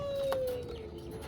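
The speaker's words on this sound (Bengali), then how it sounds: "এক পেয়ার টেডি কবুতর" A pair of two-year-old teddy pigeons: a single short coo rising out of faint background noise, with a thin steady whistle-like tone underneath.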